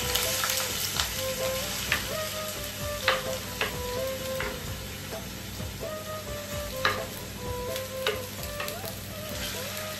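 Food stirred in a frying pan during home cooking, with a steady close sizzle under repeated scraping strokes of a spoon against the pan, several sharp clinks standing out over about ten seconds; no talking.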